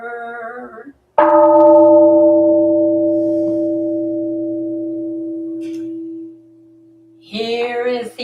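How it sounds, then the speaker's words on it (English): A struck bell at a Buddhist Sunday morning service rings out with a loud attack, then a long sustained hum that slowly fades for about five seconds before a voice resumes. "Here is the after sound of the bell."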